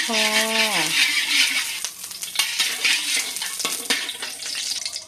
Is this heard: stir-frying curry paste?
yes